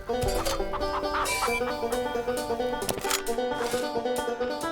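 Game chickens cluck repeatedly in the multiplayer shooter Shotgun Farmers, the short clucks sitting in a busy mix of music and game effects with no talk.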